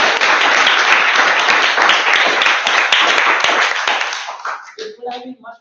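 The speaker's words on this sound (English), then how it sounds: "you should be a round of applause for the table topics" A Toastmasters club meeting audience claps in a dense, continuous round of applause for about four and a half seconds, fading out as a speaker's voice begins at the end.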